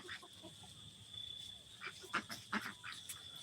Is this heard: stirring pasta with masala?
no